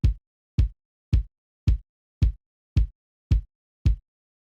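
A deep electronic sub kick, at 50% volume, layered with a main kick drum in FL Studio for a Seben beat, thumps eight times in a steady, even pulse, each hit boomy and short with silence between.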